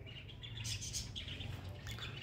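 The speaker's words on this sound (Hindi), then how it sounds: "ये तोते ही बोल रहे हैं हमारे।" Parrots squawk and chirp in short bright bursts over a steady low hum, fairly close, with no talking.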